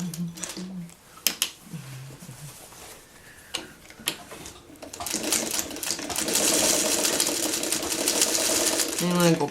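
Sewing machine stitching a churn dash quilt block appliqué, a rapid mechanical whir of needle strokes building to a steady run over the second half, after someone speaks in short phrases.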